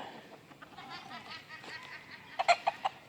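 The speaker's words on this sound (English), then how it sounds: "This is the young Azeel cockerel and the old hen." A young Aseel cockerel and an old hen cluck softly nearby, a few low murmured calls followed by a short burst of sharper clucks near the end.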